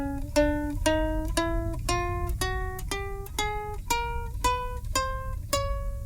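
Single plucked ukulele notes climb a chromatic scale step by step in an even, steady pattern, about a dozen clear picks over a low background hum.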